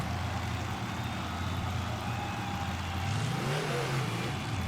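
Racing trucks launch hard off the starting line at a truck drag race, engines roaring loud and steady before surging to higher revs near the end, with a motorhome near the line.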